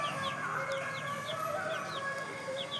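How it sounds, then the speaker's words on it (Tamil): Native country hen clucking among her chicks, with soft repeated clucks and high chick peeps scattered over a steady farmyard background, fairly quiet and without talk. "இந்த நாட்டுக்கோழி குஞ்செல்லாம் ஒரு 11 குஞ்சு இருக்குது. இதுதான் அவங்க மதர்."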